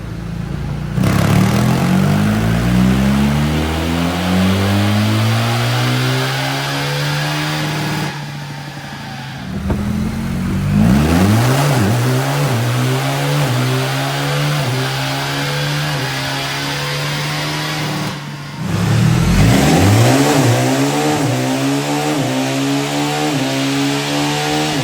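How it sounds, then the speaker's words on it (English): A 2024 BMW R 1300 GS motorcycle fitted with velocity stacks revs hard on a dyno. There are three long, loud rising rev sweeps, each separated by a brief drop to quiet, close and alone. "All right, she's all back together enough to do some dyno testing."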